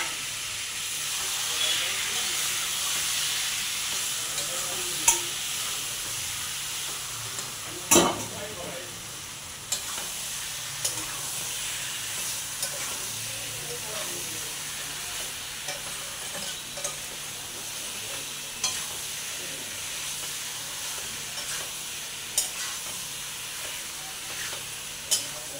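Soybeans soaked in egg fry and sizzle in a hot pan while being stirred, a steady hiss running throughout with occasional scraping knocks of the utensil against the pan.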